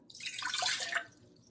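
A cup of water poured into a pot on the stove while making kheer rice pudding: about a second of close splashing and trickling that then fades.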